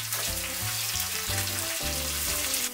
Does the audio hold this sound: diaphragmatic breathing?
no